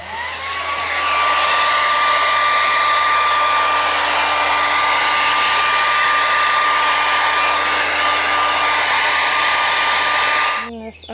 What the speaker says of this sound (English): I'm gonna hit it with a, I almost said heat gun, but my blow dryer.